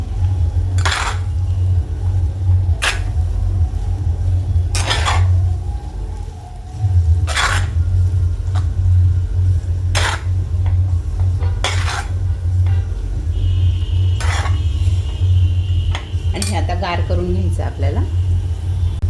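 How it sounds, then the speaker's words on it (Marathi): Potato and pea filling with fresh coriander being stirred in a pan, with sharp, evenly spaced clinks of a spoon against metal over a steady background hum as someone talks throughout. "कोथिंबीर टाकून पण मिक्स करून घ्यायचं आहे"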